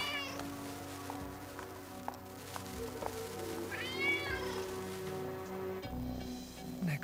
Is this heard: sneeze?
no